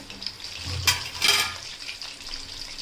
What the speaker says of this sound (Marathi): इथे आपण सहा पीस टाकलेले आहेत फ्राय करण्यासाठी